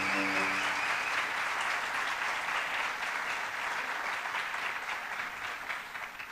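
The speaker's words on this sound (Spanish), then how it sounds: "un aplauso muy fuerte para Jesús por esa historia" Loud, sustained crowd applause at a Colombian gathering of storytelling elders, steady and dense throughout, tapering only slightly near the end.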